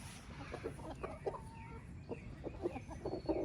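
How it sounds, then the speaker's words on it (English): Backyard chickens free-ranging outdoors give soft, scattered clucks and short calls, quiet and fairly close, over a low background hum. "As you can see, got the chickens out. Just out free ranging."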